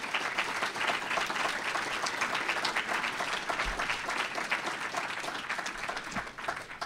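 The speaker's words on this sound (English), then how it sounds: "And a round of applause for Stephanie would be great." Audience applause at a lecture event, a dense, steady wash of many hands clapping that holds at an even level for the whole stretch, fading slightly near the end, with no talking over it.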